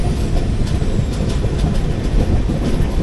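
The 11301 Udyan Express rolls into Pune station, heard from aboard as a loud, continuous rumble with rhythmic wheel clatter and rattling carriages.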